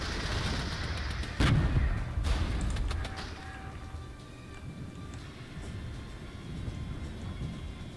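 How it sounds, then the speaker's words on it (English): Heavy artillery fires in the video game Regiments: one loud boom rings out, a second blast follows close behind, and a low rumble trails off into a quieter battlefield background. "Let's get some heavy artillery."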